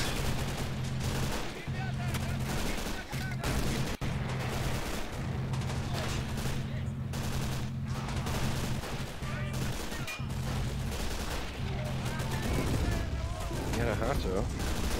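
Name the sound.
gunfire in video game Men of War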